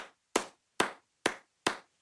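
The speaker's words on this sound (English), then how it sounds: "Okay, then clap with me." Four sharp hand claps at a steady, even rhythm, each a crisp broadband crack with a quick decay and silence between them, close and fairly loud with no talk.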